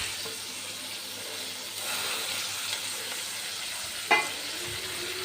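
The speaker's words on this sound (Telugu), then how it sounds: "చిక్కుడుకాయ మొత్తాన్ని కలుపుతున్నాను." Broad beans tossed with onions in a frying pan, a steady soft sizzle running throughout with scraping stir strokes, and one sharper clink of the spoon against the pan near the end.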